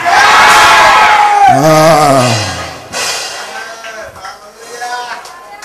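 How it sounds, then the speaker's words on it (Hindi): A congregation shouts "stop" in Hindi at a church service, a loud massed roar of many voices rising and falling together, with overlapping cries and a preacher's strong voice over the crowd. "कोई तो चिल्लाओ ठहर।"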